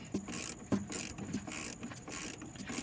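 Ratchet tightening a front shock absorber bolt while fitting Rough Country N3 shocks on a GMC Sierra: close, steady, repeated mechanical clicking in rhythmic strokes, with no voices.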